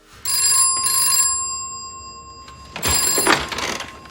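Telephone ringing in a Peaky Blinders scene: two loud electric bell rings with a pause between them, then a short gap and a burst of rustling handling noise as the receiver is lifted.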